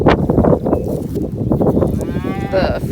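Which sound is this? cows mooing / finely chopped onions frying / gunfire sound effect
cows mooing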